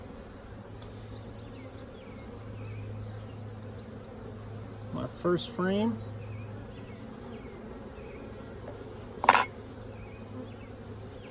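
Honeybees swarm a frame full of bees and nectar during a nucleus hive install, giving a low, steady buzz beneath brief nearby talk and a single sharp clatter.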